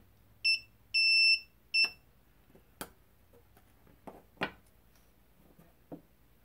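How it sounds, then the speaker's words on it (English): Spot welder firing on a metal strip for an 18650 lithium-ion battery pack: three sharp electronic beeps, the middle one longer, followed by several faint clicks and snaps in a quiet room. "I'm just gonna attach this spot welder to these probes to the metal strip, and you'll hear it go off"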